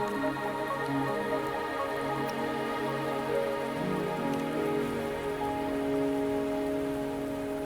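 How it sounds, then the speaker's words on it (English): Rain pours steadily in the video game Wuthering Waves, a constant close patter layered over sustained background music tones throughout. "Are you trapped here by the rain?"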